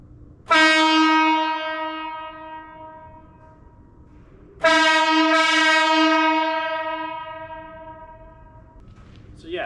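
Two long, loud blasts of a train horn, the second starting about four seconds after the first, each fading slowly, with no talking over them.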